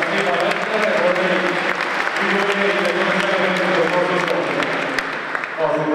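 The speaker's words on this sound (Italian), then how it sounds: "Intanto vi do un applauso per Fausto Scotti e per Eva" Sustained applause from an audience at the Giro d'Onore 2014 awards ceremony, steady and full for about six seconds, with speech from a host over the top throughout.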